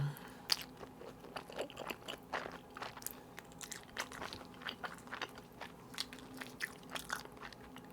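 Someone bites into and chews Mom's Touch seasoned fried chicken close to the mic, producing quiet repeated crunches and moist chewing sounds with no speech.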